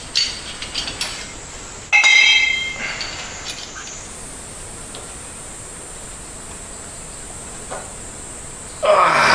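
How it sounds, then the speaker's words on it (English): An angle grinder cuts a tool shorter during front-end work on a 1999 Yamaha R1, giving a loud, close, high-pitched whine that surges as the disc bites and then holds a steady scream. "Cut that shorter while I have the angle grinder out."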